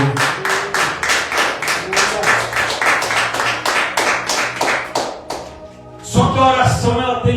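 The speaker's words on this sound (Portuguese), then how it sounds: "aplauda e glorifica o nome do Senhor" A Pentecostal church congregation claps in a steady rhythmic beat, loud and close, before the clapping fades and a voice takes over near the end.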